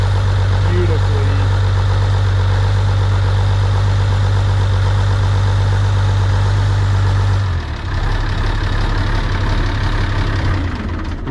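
An International tractor engine idles with a loud, steady low throb and even mechanical clatter for about seven seconds, then the note drops away as it shuts down or changes pitch, leaving softer background noise at an auction.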